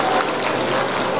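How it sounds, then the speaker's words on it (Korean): Audience applause at the opening ceremony of a local residents' self-governance program contest held at a wine festival venue in Yeongdong County, Korea. The sound is a steady, dense wash of clapping that stays even throughout, with no talking. "박수 한 번 더 부탁드리겠습니다."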